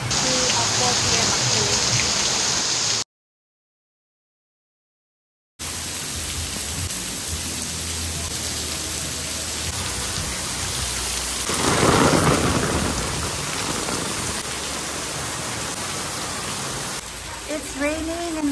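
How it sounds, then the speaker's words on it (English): Steady heavy rain hisses throughout, with a brief gap of silence and a deep thunder rumble swelling midway; a voice speaks briefly near the start and end. "It's raining"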